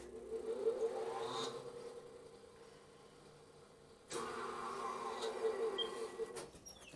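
A tire balancing machine spins up twice, each run a steady mechanical whir that rises in pitch and then slowly winds down, fairly close and clear over a quiet shop background.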